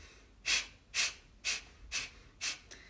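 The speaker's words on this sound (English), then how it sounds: "it's something like a contraction of the belly that made you breathe out through your nose" Sharp, forceful exhales through the nose driven by belly contractions, six evenly spaced puffs about half a second apart, close and distinct against quiet.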